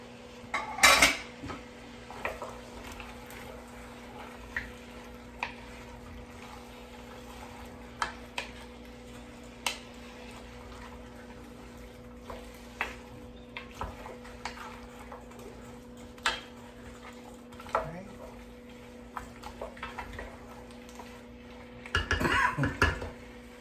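Parsnip being stirred into a mushroom stew in a pot, with sparse metal spoon clinks and knocks against the pot over a quiet hum, plus a louder clatter near the start and end.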